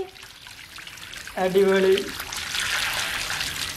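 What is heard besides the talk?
water running while filling water balloons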